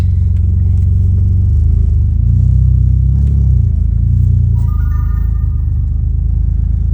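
A BMW E46 3-Series engine with the exhaust removed runs while reversing, with a deep, steady low rumble, close by. The tone swells and dips slightly as it runs, with faint clatter over the drone.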